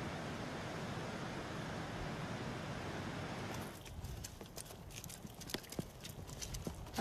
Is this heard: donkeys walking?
yes